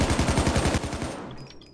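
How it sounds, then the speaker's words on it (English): An AK rifle fires a rapid automatic burst of about ten loud, close gunshots in the Payday 2 video game, then cuts off abruptly into a brief ringing tail. "And this game is really loud, like the gunshots."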